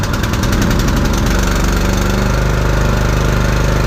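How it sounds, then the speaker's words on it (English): A Harbor Freight 20-ton log splitter's 6.5 HP gas engine catches on the second pull with the choke on, then runs in a loud, steady, close-up chugging idle. "I'm going to start this up. I'm going to turn the fuel on, turn the choke on. Second pull."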